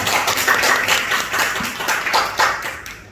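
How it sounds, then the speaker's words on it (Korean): Church congregation at a Sunday worship service applauding, dense close clapping that swells and fades over a few seconds before tailing off. "하나님께 영광의 박수 올려드리겠습니다."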